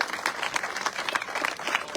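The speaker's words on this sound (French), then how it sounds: "vos applaudissements, mesdames et messieurs, pour Samuel Le Breton" Audience applause at an outdoor awards ceremony, a dense, even patter of many hands clapping at moderate distance throughout.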